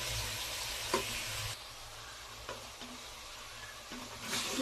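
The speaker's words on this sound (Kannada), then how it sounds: "ಈಗ ನಾವು ಮಟನ್ ಚಾಪ್ಸ್ನೇ ಹಾಕ್ಕೊಡೋಣ. ಹಾಕ್ಕೊಂಡು ಚೆನ್ನಾಗಿ ತಿರುಗಿಸ್ಬೇಕು." Mutton chops frying in a hot pan for pepper masala as they are stirred, a steady broad sizzle with a few scraping stir clicks, loud at first then settling quieter, no talking.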